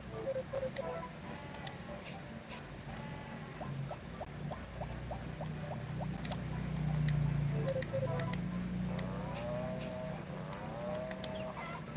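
Bleating goat calls from a video game repeat in short runs over a busy game soundtrack with tapping effects, fairly faint and close.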